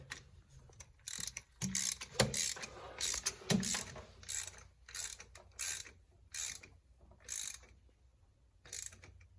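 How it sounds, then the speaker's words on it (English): Torque wrench ratcheting a bolt to 17 foot-pounds on a Mazda FC RX7 engine during thermostat and belt work, quiet rhythmic bursts of clicking with short pauses between strokes. "He's torquing it to 17 foot-pounds as the factory service manual says."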